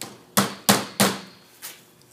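A normal hammer taps a double pane window piece into place, four sharp, close knocks, the first three evenly spaced and the last softer after a short gap.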